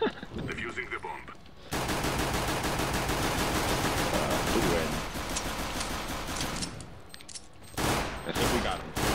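Counter-Strike gunfire bursts in after a quiet start: rapid automatic shots in a dense sustained volley, briefly pausing near the end before a few more loud bursts.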